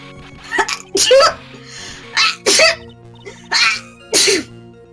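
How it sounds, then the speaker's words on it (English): A character in the Ace Attorney game sneezes repeatedly, several sharp, loud bursts in a row with short gaps, each followed by a brief breathy tail over a quiet music bed. "Seems like he sneezes every time he lies!"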